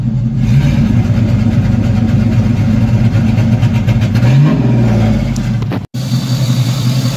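An LS V8 swapped into an S10 pickup with a five-speed holds against an MSD two-step rev limiter, a loud, steady, crackling, stuttering drone with a brief rise in pitch and a momentary cut near the end.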